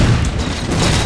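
A rapid burst of gunfire rings out in Halo 4 multiplayer, loud and continuous with booming low thuds and no talk.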